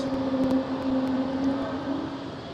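Air Serbia airliner climbing out after takeoff at Schiphol, a steady sustained engine roar with a strong hum, at moderate distance and with no talk.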